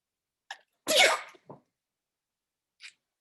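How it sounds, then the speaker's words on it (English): A narrator voices a single sharp sneeze for a ship's carpenter handling a dusty bone, with a short breathy intake before it and a faint trailing sound after. "What art thou sneezing about?"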